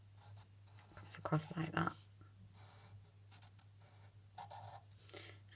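A pen scratches across paper while lines and wavy strokes are drawn on a treasure map, a brief burst of close scribbling followed by lighter strokes, with a voice talking over it.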